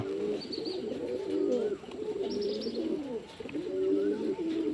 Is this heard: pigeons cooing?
yes